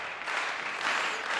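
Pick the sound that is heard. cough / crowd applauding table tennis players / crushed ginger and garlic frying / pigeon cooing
crowd applauding table tennis players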